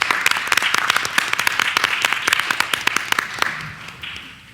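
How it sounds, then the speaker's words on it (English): A crowd at a city Board of Education meeting claps for students, sharp individual hand claps standing out over the general applause, which thins and fades toward the end. "I want us to give a clap for all our amazing students"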